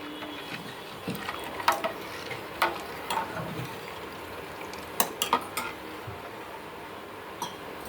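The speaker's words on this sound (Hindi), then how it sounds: "थोड़ी थोड़ी करके हम डालेंगे और मिक्स करते जाएंगे इस तरह से" Semolina being stirred in a pan as it is added a little at a time, for soft semolina papad: faint, irregular spoon scrapes and light taps against the pan, with no talking.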